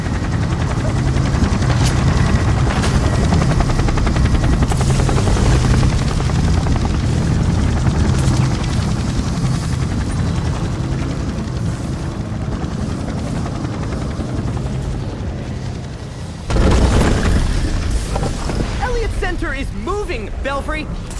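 Helicopter in the video game Gotham Knights during a severe storm, a loud continuous rotor drone with rain and wind, bursts of gunfire-like crackles, and voices speaking over it.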